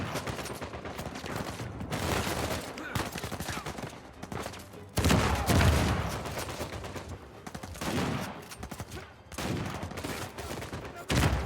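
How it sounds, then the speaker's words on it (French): Gunfire in the video game Uncharted 4 rattles in dense, repeated bursts of rapid shots, loud and close, with short lulls between the volleys and no voices over it. "Qui me tire dessus?"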